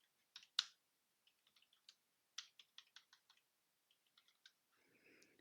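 Computer keyboard typing while setting up a Python environment from a shell: irregular bursts of quiet, close key clicks with short pauses between them, followed by a soft rustle at the end.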